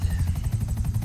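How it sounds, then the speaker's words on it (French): A video game helicopter drones steadily with a low rotor thump and pulsing hum, close and continuous throughout the short stretch, no voices over it. "comme vous pouvez voir, c'est mon hélico"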